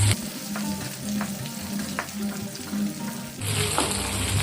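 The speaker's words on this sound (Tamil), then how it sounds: "இப்போ நாலஞ்சு பச்சை மிளகாய் சேர்த்துக்கலாம் சேர்த்து அதையும் நல்லா கலர் மாறு வரைக்கும் ஆயிலில் பொறிச்சுக்குவோம்" Green chillies fried in oil for a Chettinad fish curry: a continuous sizzle with stirring, rising to a louder, brighter burst of frying near the end.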